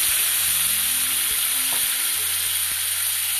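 Tomatoes frying in oil in a kadai, a loud, dense, continuous sizzle heard up close with faint stirring knocks underneath and no talking.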